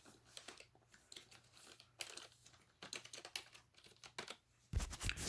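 Typing on a Razer Cynosa Chroma keyboard: soft, muffled, squishy key presses in quick irregular bursts with short pauses, close and quiet, ending in a louder crinkling rustle.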